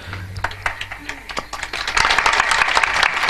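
A kirtan audience claps, scattered hand claps at first that swell into fuller, denser applause over the final second and a half, with a voice briefly audible.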